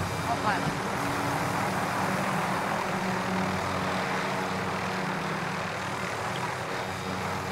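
A helicopter in Call of Duty Modern Warfare drones with a steady, loud rotor and engine roar that fills the whole clip without a break.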